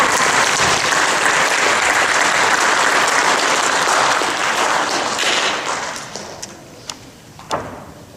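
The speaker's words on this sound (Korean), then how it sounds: "우리도 박수 두 번 하면 어떨까요?" A Korean church congregation applauds the choir after its hymns, a full, loud round of clapping that holds for several seconds, then tapers into scattered individual claps before dying away.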